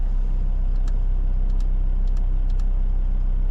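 A 4x4 vehicle in first gear, low range, pulls away on soft sand, its engine a loud steady low rumble that fills the whole stretch, with a few faint high clicks or squeaks above it.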